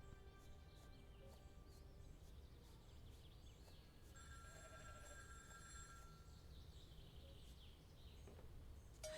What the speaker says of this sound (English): Did we just hear a phone ring?